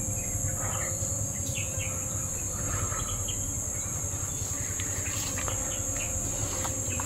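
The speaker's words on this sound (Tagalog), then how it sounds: "Rinig nyo po mga idol yung mga huni ng bubuyog." A steady, continuous insect drone of buzzing bees outdoors, constant and fairly close, with faint chirps and other wildlife sounds scattered through it and no talking.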